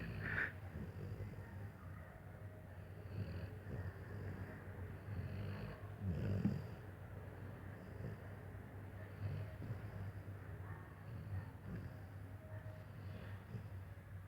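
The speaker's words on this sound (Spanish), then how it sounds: "sabía que los perros roncaban" A dog snores steadily, low rumbling breaths repeating at close range, with a somewhat louder snort-like breath midway and faint background noise throughout.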